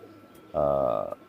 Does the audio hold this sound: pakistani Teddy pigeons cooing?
yes